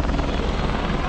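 A helicopter flies overhead at a mountain bike World Cup event in Loudenville, its rotor thudding loud and steady in a dense continuous roar.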